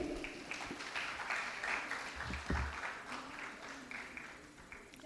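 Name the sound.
audience applause for panelists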